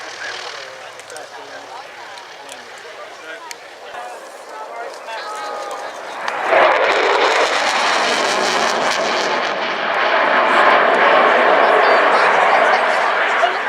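A French Air Force multirole fighter jet at the RAF Cosford Airshow 2018 roars by, starting as a distant rumble and swelling abruptly into a loud, sustained broadband blast, with a voice speaking underneath.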